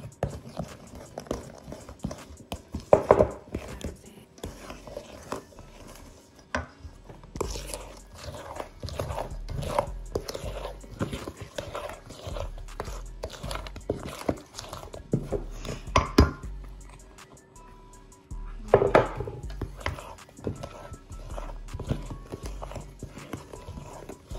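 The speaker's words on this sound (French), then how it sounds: "Et là, je vais incorporer petit à petit cette farine à l'appareil" Flour worked into chocolate brownie batter with hazelnuts and pecans makes repeated knocking and clattering of a utensil against the mixing bowl, in an irregular rhythm with short pauses.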